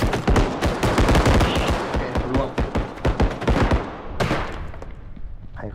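Rapid automatic gunfire exchange in the shooter game Bodycam, dense loud bursts of shots close by for several seconds, then a single heavy blast and fading echoes.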